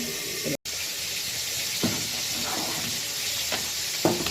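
A pot of khichuri, rice and lentils with potato, bubbles at a boil, giving a steady close hiss with soft gurgles and a few faint clinks, without talk.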